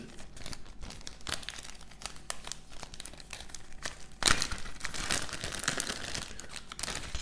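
A Pokémon card booster pack wrapper is crinkled and torn open close by, with a run of foil crackles building to a louder ripping burst midway and continued crinkling after, no talk.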